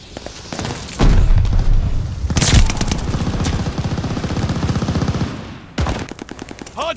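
Loud video-game combat with rapid automatic gunfire rattling almost throughout, broken by heavy booming blasts from rocket launcher fire and explosions near the start and end.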